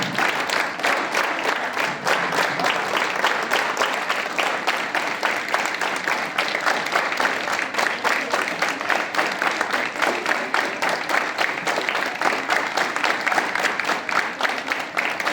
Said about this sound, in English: Hands up. Clap.